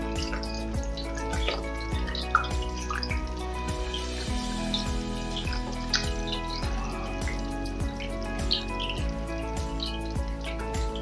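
Salmon cakes sizzle as they are placed into very hot oil in a pan, a steady, moderately quiet crackle with scattered small pops and spits running throughout.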